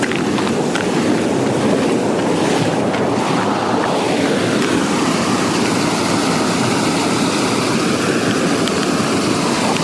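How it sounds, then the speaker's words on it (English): Loud, continuous water rushing over a weir roars close by, a dense, churning wash with wind buffeting the microphone. "And this is the noise of the weir."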